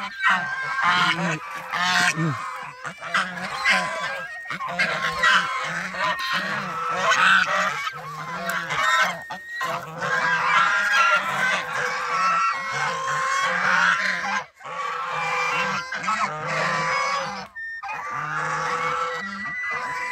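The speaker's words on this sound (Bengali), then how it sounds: "এটা হচ্ছে রাজহাঁসের ডাক।" A flock of domestic geese at a pond honks loudly and continuously, harsh overlapping calls crowding together close by, with barely a pause throughout.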